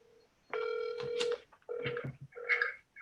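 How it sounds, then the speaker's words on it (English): A phone call from a community meeting sounds as a series of steady electronic tones and ringing pulses, fairly faint, with short gaps between them. "I'm gonna call him on my phone here."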